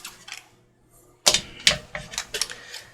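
Scissors trimming paper for a miniature lap book, a few crisp snips close by after a brief quiet pause, each cut a sharp burst.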